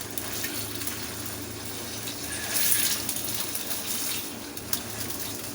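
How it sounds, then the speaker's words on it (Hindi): Chicken frying in hot oil in a karahi over a high flame gives a steady, dense sizzle with a hissing crackle that holds evenly throughout and swells briefly midway, with no talking. "तो ऑयल गर्म हो जाएगा तो मैं इसमें अपनी चिकन डालूँगी। देखें, हाई फ्लेम पे मैं ये थोड़ा सा कलर चेंज होने तक इसको फ्राई करूँगी।"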